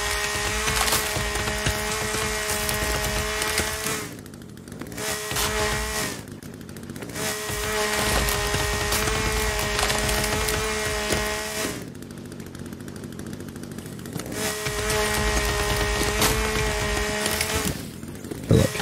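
A chainsaw in the survival game The Forest runs loud and continuous, its engine droning and revving in long cutting passes through trees, briefly dipping between cuts before roaring back.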